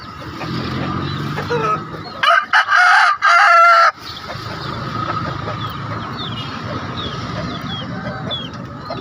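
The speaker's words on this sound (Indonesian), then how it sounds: "Ada juga ayam Filipina." A Filipino rooster crows loudly and close by, a single drawn-out call breaking through quieter clucking and background noise at a weekly chicken market in Makassar.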